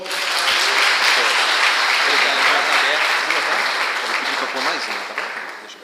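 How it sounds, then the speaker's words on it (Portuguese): A church congregation applauds loudly and steadily in a worship service, with the dense clapping filling the room throughout and easing slightly toward the end. "Vamos todos aplaudir ao Senhor."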